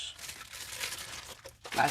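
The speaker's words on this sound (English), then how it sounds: "plastic bag," A plastic bag crinkles and rustles close up while solar battery system parts are unpacked, in short bursts with a louder crackle near the end and quiet talk around it.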